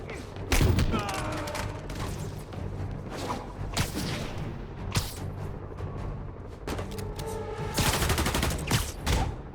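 Bursts of gunfire in Marvel's Spider-Man Remastered, several loud volleys of rapid shots separated by short gaps, with whooshes and a game voice talking between them.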